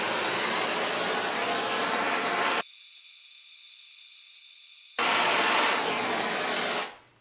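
A small handheld torch hisses steadily while heating a stuck nut during trailer restoration work, a loud continuous rushing roar that cuts out briefly mid-clip, then resumes before fading away at the end.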